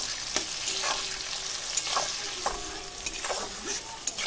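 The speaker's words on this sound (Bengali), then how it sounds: "এটাও আমি ভেজে নেব।" Chopped garlic, ginger and green chili frying in oil, a close, busy sizzle broken by several stirring scrapes and spatula clinks over a few seconds, no talking.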